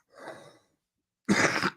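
One person coughs twice, close to the microphone, with a short silence between the coughs. The first is a softer, throaty hack and the second a loud, sharp cough. No talking is heard.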